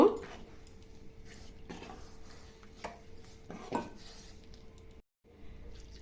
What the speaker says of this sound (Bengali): জলের সাথে ভালোভাবে মিশিয়ে নিয়েছি